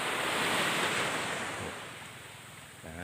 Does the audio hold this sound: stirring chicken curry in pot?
no